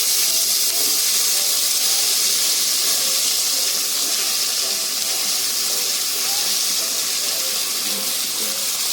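Onions sautéing with garam masala in a pan for biryani give off a constant, even sizzling hiss that holds at one level throughout, with no voices over it.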